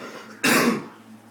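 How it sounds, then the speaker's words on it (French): A single sharp cough from someone who is ill bursts out close by, brief and fairly loud, against a quiet background. "Désolé vu que je suis un peu malade, je tousse."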